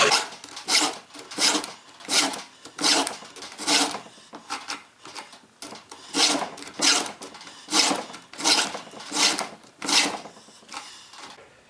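A file rasps across chainsaw chain teeth in steady back-and-forth strokes, about two per second, close and fairly loud, with no talking; the last cutter on the chain is being sharpened.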